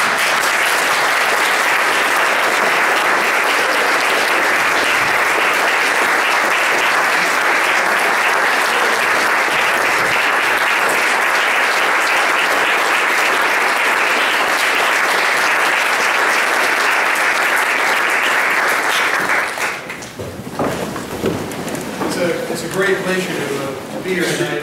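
An audience gives a speaker a standing ovation, with loud, dense applause sustained for about twenty seconds before it thins out and a voice begins speaking.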